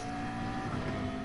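A race car engine roars at Watkins Glen in a racing video game, a loud, dense, continuous drone heard close up and alone for a brief moment.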